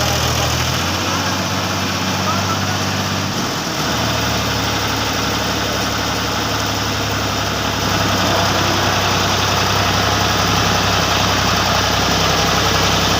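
A tractor engine idles steadily and loudly nearby, with a constant low rumble and droning vibration throughout, on a job ploughing drainage channels for rainwater; no talk.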